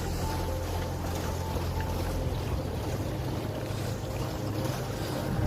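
A rowing boat out on Nainital lake, with steady water wash and a low, broadband rumble of wind and motion running continuously at moderate level, with no clear voices.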